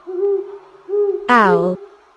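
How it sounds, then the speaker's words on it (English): An owl hoots in a clear, close call: two short, steady tones and then a louder, longer hoot that falls slightly in pitch, all against a quiet background. "Owl."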